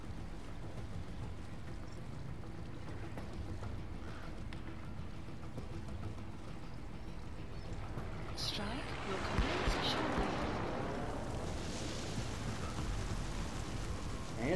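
Steady rain hiss throughout, growing heavier partway through with splashy patter, a continuous wash of falling water.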